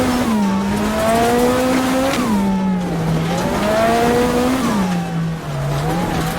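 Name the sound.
Lancia Delta S4 Group B rally car engine accelerating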